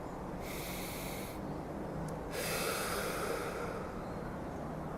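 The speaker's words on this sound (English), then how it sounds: "Breathing." Two deep, close breaths sound alone, a long airy inhale followed by a longer, fuller exhale against a quiet steady background hum.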